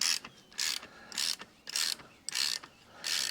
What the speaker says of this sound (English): Now we'll take our 5/8 inch ratchet and we'll start tightening things up here.